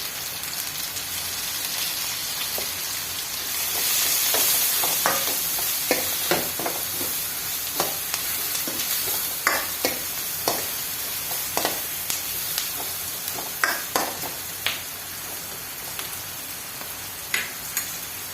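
Cumin, mustard seeds and turmeric sizzling in hot oil while making kandi pappu charu, a steady crackling hiss with scattered sharp pops and spits, close and fairly loud, no talking.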